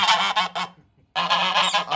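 A goose honks repeatedly in loud, close bursts, a run of calls, a short pause of silence, then another sustained stretch of honking.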